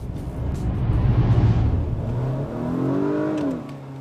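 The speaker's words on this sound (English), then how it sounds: "Get on it hard, and you can see a dramatic shift in power distribution." An Acura car with all-wheel drive accelerates hard, its engine note rising in a smooth whine before tapering off, moderately loud and without speech.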